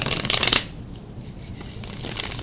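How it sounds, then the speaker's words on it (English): A tarot card deck gets one quick shuffle up close, a crisp riffling burst lasting about half a second before the sound drops to near quiet. "one more shuffle to go."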